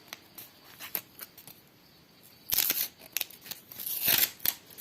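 Scissors snip through paper in quick, close-up bursts while making paper surprise packets, with sharper clusters of cutting near the end and faint rustling between.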